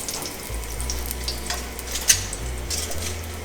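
Chicken fries in olive oil until golden brown, a close, continuous sizzle with light stirring and a few sharp clinks of a utensil against the pan.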